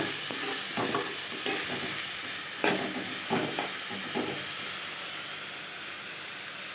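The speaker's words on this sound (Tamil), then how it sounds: "கொத்தமல்லி, புதினா வதங்கின உடனே நம்ம ஆஃப் பண்ணிக்கலாம்." Coriander and mint leaves sauté in a pan for a fish kuzhambu, giving a constant, loud frying hiss with a few soft spatula scrapes and stirring knocks near the start, then a steady sizzle alone.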